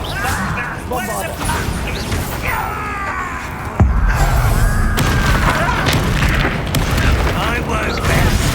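In Hogwarts Legacy, a Bombarda spell goes off as a sudden deep boom midway, followed by a sustained rumbling roar, after magical whooshes and swishing sweeps of combat, with a character's voice heard before it.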